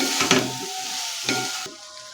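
Cauliflower stirred and fried in a pan, a steady sizzle with a couple of scraping stir strokes and utensil knocks, close and clear.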